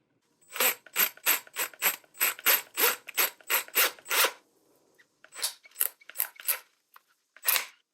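A rapid run of sharp mechanical ratcheting bursts from a drill twisting wire for stained glass jump rings, about a dozen in quick rhythm, then a short pause and a few more, close and crisp.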